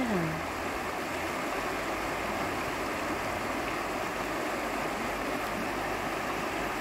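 A river stream flowing steadily, a dense, continuous rushing wash of water that stays loud and even throughout, with no talk over it.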